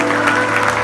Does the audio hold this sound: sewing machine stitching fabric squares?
no